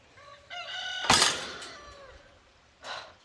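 A rooster on a farm crows in one loud harmonic call, followed by a sharp burst and a shorter cry, close and clear.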